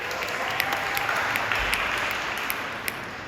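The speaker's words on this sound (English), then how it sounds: "Once again, a round of applause for all our legal clinic volunteers and our co-sponsors." Audience applause for legal clinic volunteers and co-sponsors at a Homecoming 2021 volunteer appreciation event in San Francisco, a dense, steady wash of many hands clapping throughout, moderately loud and fairly close.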